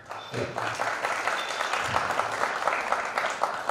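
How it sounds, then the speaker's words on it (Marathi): Audience applause at a literary conference fills the clip, a dense steady patter of many hands clapping at moderate loudness without a break, with no voices over it. "आपण टाळ्या वाजून अप्रत्यक्षपणे अनुमोदन दिलं"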